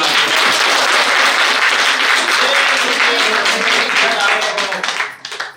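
Audience applause at a Hindi devotional religious discourse, a dense, loud wash of many hands clapping continuously for several seconds before tapering off at the end.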